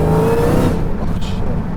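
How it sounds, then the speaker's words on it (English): Close, heavy 1,000-horsepower Dodge Challenger Hellcat engine rumble revs up and then drops back to a rough, throbbing idle; no one speaks. "It sounds like an old muscle car."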